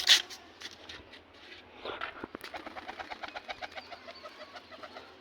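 Pigeons being released from a rooftop loft, with a quick flurry of wingbeats followed by a steady run of soft, rhythmic cooing and flapping close by, and no speech.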